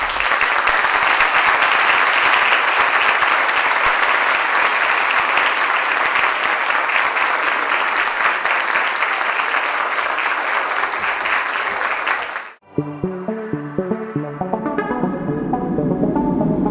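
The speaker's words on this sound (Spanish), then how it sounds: "La despedimos con un caluroso aplauso." Warm applause from an audience at a university youth event, a dense sustained clapping that fills most of the span, then cuts off abruptly and gives way to unrelated music at the end.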